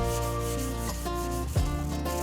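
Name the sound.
sanding primer with 600 grit sandpaper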